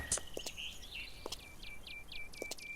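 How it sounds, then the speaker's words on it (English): Birds chirping in the video game Lumberjack's Dynasty, a quiet scene of repeated short high tweets and a few trilled calls over faint ambient background, no speech. "The birds are out."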